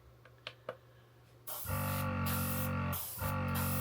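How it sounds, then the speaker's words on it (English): Gaahleri Ambition airbrush compressor motor switching on after a few faint clicks, then running steadily with a loud, buzzing hum that dips briefly before continuing. "You can hear that motor getting a little faster."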